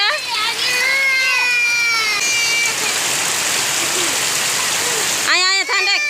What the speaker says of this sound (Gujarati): આજ તો બહુ વરસાદ આવ્યો છે